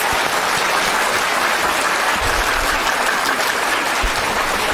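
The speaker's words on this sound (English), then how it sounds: "Give him a big round of applause." Audience applause at a Japan Habba festival in Bengaluru for a Japanese classical dancer: a dense, continuous wash of clapping from a large crowd, steady and loud throughout, with no voices above it.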